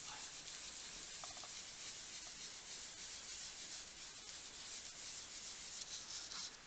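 A small cotton pad rubs across a handmade holographic card, making a soft, continuous close-up scratchy swish in quick back-and-forth strokes. No one speaks.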